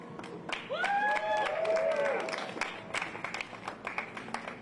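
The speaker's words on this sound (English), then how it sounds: "Let's give a round of applause." A crowd at a protest rally outside a city hall claps and cheers, with a voice and a ringing tone over the opening, then the applause thins to scattered individual claps.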